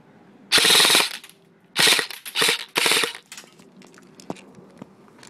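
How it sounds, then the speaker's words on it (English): An airsoft CQB gun fires full auto in four loud rapid bursts, the first the longest, then a few single clicks trail off. "I'm just going to show you shooting it right now."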